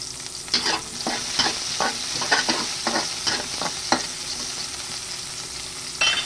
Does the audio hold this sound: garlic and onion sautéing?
yes